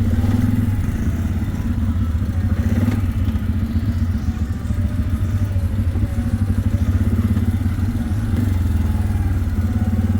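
An ATV quad bike engine on a trail ride at Mission Ridge, Washington, gives a steady, loud low drone with a slight rattle throughout, with no speech.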